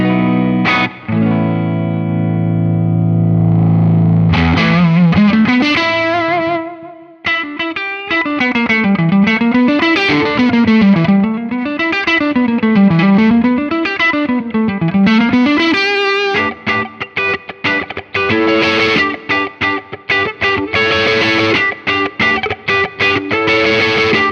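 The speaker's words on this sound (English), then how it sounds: "So here is just a mildly overdriven sound." An electric guitar through a Chase Bliss Automatone Preamp MKII, with a mildly overdriven, slightly gritty tone, plays sustained notes and wavering bends, then choppy strummed chords, close and loud.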